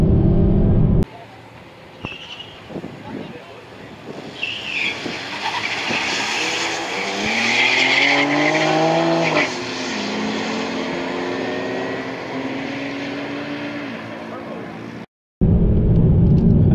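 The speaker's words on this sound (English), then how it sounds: "I think it's having some trouble putting down the power" A 2021 BMW M4 accelerates hard with its tires struggling for grip. The engine rises from a loud launch into a climbing, sweeping roar, and a voice talks over it near the start.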